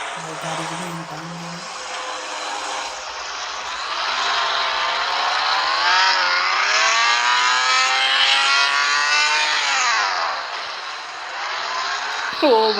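Supercar engine in Car Parking Multiplayer 2 revving loudly and rising and falling in pitch through long sustained sweeps, close and dominant, with a short burst near the end.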